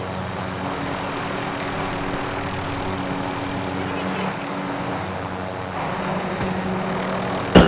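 A steady aircraft engine drone in Call of Duty: Modern Warfare, with constant low tonal hum and broadband roar throughout, a brief louder burst at the very end, players talking over it.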